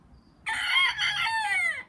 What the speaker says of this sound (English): There's a chicken in the greenhouse.